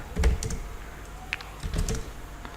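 Code being typed on a computer keyboard: a few quick, close, clicky keystrokes in short irregular bursts, with no talk over them.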